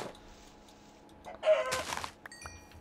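Chickens in an unmodded Minecraft world, a few short clucks and squawks at moderate distance over a quiet background, with a brief louder burst in the middle.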